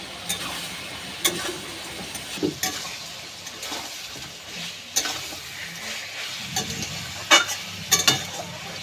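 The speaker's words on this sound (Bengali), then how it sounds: "আবার ভালো করে ভাজা ভাজা করতে থাকবো এইভাবে খুন্তি দিয়ে অনবরত" Chicken curry spices fry in a pan while a metal spatula stirs and scrapes, giving a continuous sizzle broken by repeated sharp clinks and scraping strokes, with no talk.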